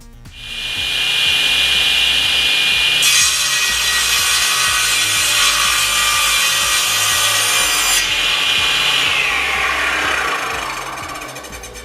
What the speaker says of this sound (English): to do an angled cut, we can just set the slide to that position, bring our wood in and do the cut